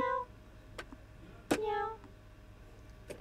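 A man imitates a cat with a few short, nasal meows spaced apart during a live stream, heard close against a steady background hum.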